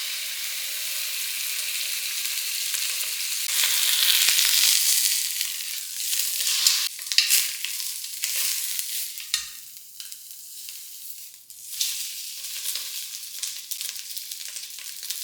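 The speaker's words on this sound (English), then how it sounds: "I'm going to add a little oil and brown the meat just to lock in the flavor" Ribs browning in hot oil in a pan, a constant bright sizzle with crackling spikes and surges as the meat is moved and turned, close and loud.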